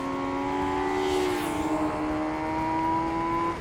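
An MV Agusta Brutale RR naked motorcycle engine revs high toward its 13,000 rpm redline, a sustained wailing tone that climbs and holds, heard at moderate distance without talk.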